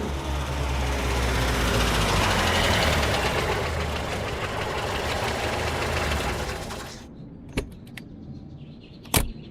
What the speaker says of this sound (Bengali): গাড়ির আওয়াজ শুনেই বুঝেছি আপনি এসেছেন